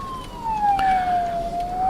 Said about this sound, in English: So I can hear sirens